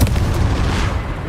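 A Confringo spell blast in Hogwarts Legacy lands as a loud, close boom with a rumbling, spreading tail that fades across a second or so, with no voices over it.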